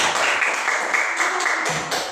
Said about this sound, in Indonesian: Tepuk tangan dulu untuk kan.